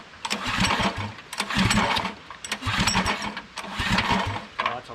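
A homemade mini bike's small engine being pull-started with the choke on, giving three rough bursts of sputtering, revving engine noise, each cutting out after about a second, close and loud with no talk.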